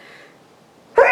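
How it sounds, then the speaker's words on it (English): One sudden, sharp human sneeze bursts out at the end after about a second of near silence, close and fairly loud. "Sorry, I'm about to sneeze."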